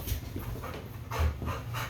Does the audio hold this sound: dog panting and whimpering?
yes